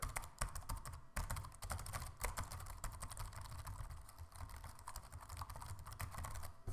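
Rapid typing on a ThinkPad laptop keyboard, keys clicking in a fast, uneven stream, close and fairly quiet, with no voices.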